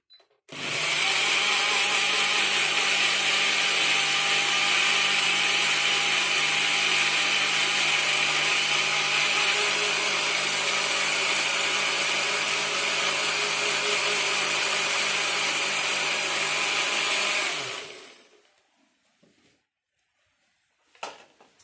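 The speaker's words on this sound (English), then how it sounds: "You blend again for them to mix up." A blender whirs continuously at close range for about seventeen seconds while mixing cake batter of eggs and butter, a loud steady motor drone that then cuts off abruptly into near silence.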